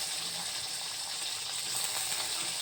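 Onions fry in hot oil in a pan with ginger and garlic, giving a dense, steady hiss and sizzle close by, with no talking.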